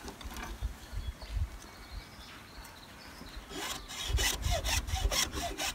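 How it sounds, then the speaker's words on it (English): Hand saw cutting notches into wooden sticks for a rabbit trap, with steady rasping back-and-forth strokes that grow louder and faster toward the end, close by with no talking. "now we've just got to cut a couple of notches so this stick can sit in between them"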